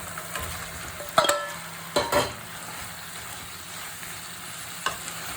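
Chicken frying in a pan for chilli chicken, a continuous sizzle with a few louder bursts of stirring and scraping, close up and without speech.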